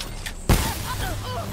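A single sharp gunshot bursts out in Call of Duty Black Ops III, loud and close, with a ringing tail and game effects trailing after it.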